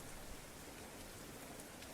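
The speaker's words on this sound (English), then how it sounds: "The notes blend with the gentle patter of rain, creating a calming rhythm." Gentle rain patters steadily and softly throughout, an even, continuous hiss of drops with no voices and no distinct individual hits.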